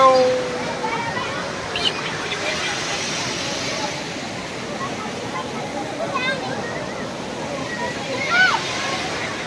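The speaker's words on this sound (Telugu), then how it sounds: "ఇదే వాటర్ ఫాల్ చూడండి ఫ్రెండ్స్." Rushing water from Pallagutta waterfall, a steady broadband wash with occasional splashing, heard continuously at moderate distance with faint crowd or voice sounds in the background.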